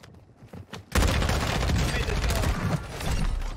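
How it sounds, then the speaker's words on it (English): Gunfire in Warzone 2: a dense, loud burst of rapid automatic shots erupts after a quieter opening and keeps rattling steadily to the end. "I'm getting shot in the back."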